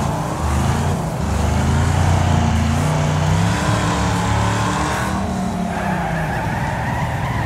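A car in the racing game Wreckfest brakes hard and skids, tires squealing over a loud, close engine roar that rises and falls, with no talking.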